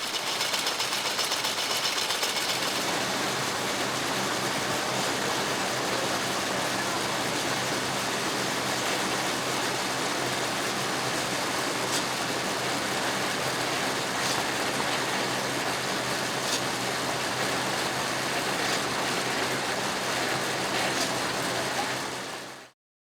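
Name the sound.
jute gill drawing machine running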